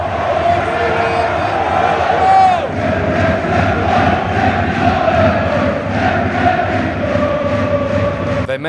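Wrexham away fans chant loudly and continuously in a packed football stadium at Bolton, a dense roar of massed voices that swells and holds throughout, with broadband crowd noise rather than any single speaker.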